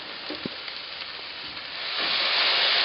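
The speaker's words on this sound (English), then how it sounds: "We're going to cook these onions until they start to turn nice and golden." Chopped white onion frying in a pan gives a steady sizzling hiss that swells louder toward the end, close and alone with no voices.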